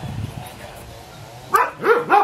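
A friendly dog gives a few short, sharp barks near the end, loud and close, after a stretch of quiet low rumble.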